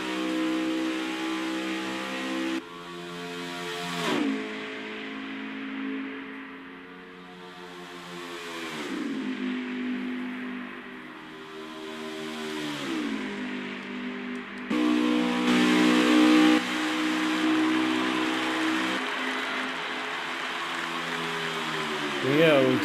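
Race cars battle side by side at Michigan International Speedway in an SCRL Hurricane Series race, engines droning loud and close with pitch sweeps as they pass, under steady commentary.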